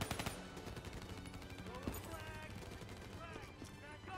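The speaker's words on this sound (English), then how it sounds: "I'm gonna shoot my way through this." Rapid automatic gunfire in the video game Call of Duty Black Ops 3, with dense, continuous bursts of close shots and game effects over a busy soundtrack.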